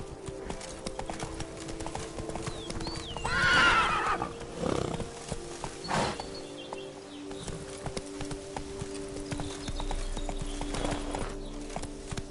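Roach, the horse in The Witcher 3, gallops with steady clip-clop hoofbeats and gives a whinny partway through, with light game ambience beneath.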